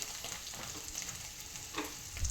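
Paneer cubes fry in a pan until golden on both sides, giving a continuous close sizzle with light crackles and occasional louder pops.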